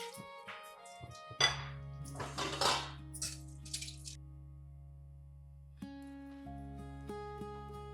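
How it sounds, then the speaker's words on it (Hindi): Pots, plates and cutlery clatter and clink in a home kitchen sink, with a burst of busy clanking early on, then quieter dripping and soft knocks over a steady low hum. "मैं ये बर्तन धो के आती हूँ"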